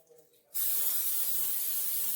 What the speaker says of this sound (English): we're gonna go ahead and spray our pan.